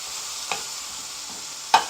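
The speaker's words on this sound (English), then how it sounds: "So we just continue to stir." Food being stirred in a pot as it browns, under a steady sizzle with a couple of clear scraping knocks from the spoon, close by and with no voices.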